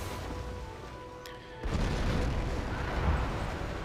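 Battleships bombard a city in Civilization V: Brave New World, a sudden heavy rumbling boom that swells into a sustained, loud roar of blasts and debris.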